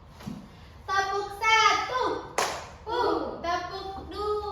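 Children in an Indonesian primary-school science class clap along to a call-and-response rhythm game, sharp claps and taps mixed with young voices chanting and speaking throughout.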